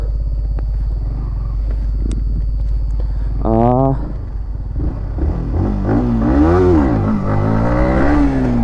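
A motorcycle engine with traction control switched off, idling low and then revving up in several rising and falling bursts, loud and close.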